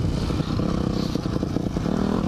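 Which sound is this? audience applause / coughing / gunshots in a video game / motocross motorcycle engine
motocross motorcycle engine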